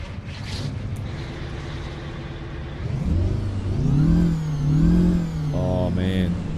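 The 928 chipped engine of a Kenworth 521 truck in American Truck Simulator idles with a low hum, then revs in rising and falling surges that swell louder toward the end.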